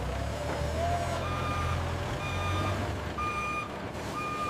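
A truck reversing, with a steady series of high electronic backup beeps repeating over a low rumbling diesel engine idle.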